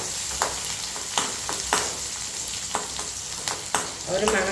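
Onions sautéing in a pan for a curry, a steady broadband sizzle with repeated scrape and clack transients from a utensil stirring, close and continuous with no talk.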